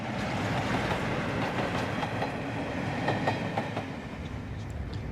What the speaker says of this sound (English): The royal train is on its way north.